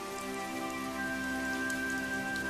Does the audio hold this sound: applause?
no